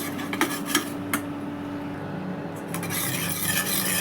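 A spoon scrapes and stirs pointed gourd pieces as they roast in a pan, with irregular metallic clinks and rubbing at close range and a faint sizzle underneath.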